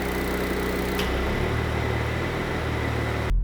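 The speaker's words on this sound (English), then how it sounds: "you guys can hear the exhaust did change a little bit" A 2019 Porsche Macan S in Sport Plus mode rumbles with a steady, deep exhaust note, holding a constant engine tone that shifts slightly partway through before cutting off abruptly at the end.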